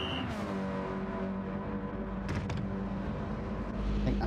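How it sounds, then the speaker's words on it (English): Race cars in Gran Turismo 7 roar past one after another in a continuous engine drone, with brief sharper whooshes as individual cars pass close by. "Listen to the cars going by."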